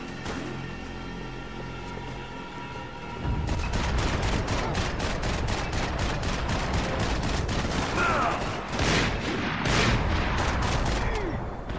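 Max Payne 3 gunfire erupts after a quieter start, rapid repeated shots and booming bursts in quick succession, loud and sustained through the rest.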